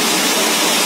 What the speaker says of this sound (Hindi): सुबह से पाइप फटा था और ये कोई नहीं देख रहा नगर निगम वाला, और सुबह से पानी बह रहा है